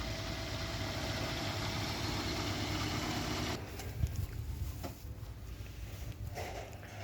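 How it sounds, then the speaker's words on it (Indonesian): A 2009 Toyota Avanza 1.5 S automatic's engine idles with a steady, low rumble, then the tone shifts slightly and a few soft knocks and clicks come through near the end. "Suara mesinnya nah garing banget nah."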